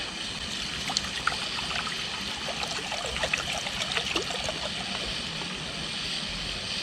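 Water trickles and pours steadily into a cooking pot at a nighttime fishing camp beside the Dnieper, a faint, continuous splashing with no voices.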